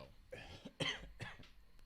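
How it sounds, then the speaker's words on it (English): A short burst of coughing, three or four harsh coughs in quick succession, close by. "I'm coughing"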